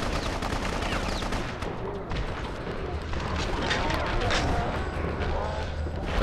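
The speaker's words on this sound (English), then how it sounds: "Stop shooting me!" Enemies in Bloodrayne fire guns in rapid, dense bursts of gunfire, loud and continuous with a crackling, chaotic mix of shots, while someone talks over the shooting.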